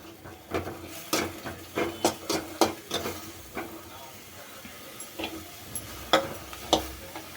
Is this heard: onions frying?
yes